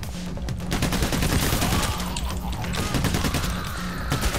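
Rapid gunfire from a shotgun and other weapons fills a heist shootout in the video game Payday: The Heist, a dense, loud fusillade of overlapping shots that barely lets up.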